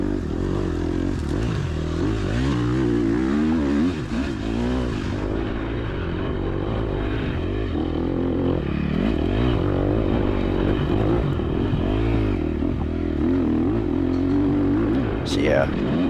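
A KTM SX-F dirt bike engine drones and revs steadily while riding a hand-cut woods singletrack trail, loud and continuous, with a rider talking over the engine throughout.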